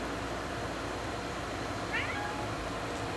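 A house cat gives a single brief meow about two seconds in, fairly faint against a steady background hiss, otherwise quiet.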